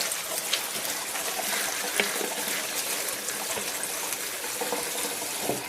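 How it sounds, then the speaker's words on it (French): Running tap water pours steadily over mushrooms in a colander as they are rubbed by hand, a continuous close splashing rush with small irregular spatters and no speech. "je vais les passer rapidement sous l'eau en les frottant à la main"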